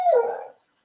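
A dog lets out a single short whimper, close and fairly loud, rising then trailing away within about half a second, with no talk over it.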